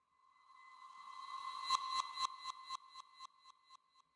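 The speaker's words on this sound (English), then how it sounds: "this is just stock Ableton reverb set to fully wet and delay" A bright synth tone passed through stock Ableton reverb set fully wet with ping-pong delay swells in, then splinters into evenly spaced echo repeats that bounce and fade gradually, clear and isolated with no talking.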